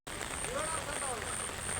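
Steady rain falling in a rural village in Bangladesh, a dense, even hiss that fills the whole stretch without a break, heard close with no talk over it.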